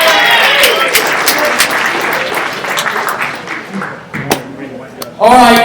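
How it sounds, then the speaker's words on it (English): Audience clapping at a combat-sports invitational event, a burst of crowd applause that fades over several seconds, then an announcer's voice resumes briefly at the end. "Can we get some claps for that too?"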